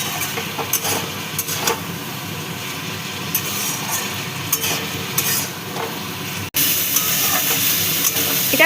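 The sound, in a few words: stirring kasuri methi into frying vegetable curry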